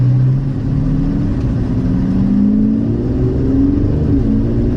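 A car engine in Sport Plus mode hums and revs steadily from inside the cabin, a loud sustained drone that gradually rises in pitch with no talking.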